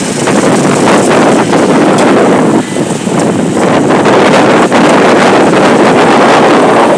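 Strong wind in a sudden storm roars steadily into the microphone, loud and buffeting for the whole stretch, with only brief dips in force.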